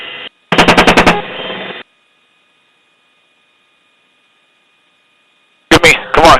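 An Apache helicopter's gun fires bursts at Taliban fighters, a rapid string of loud cracks followed by a long stretch of near silence and a second short burst at the end, over a faint radio hum.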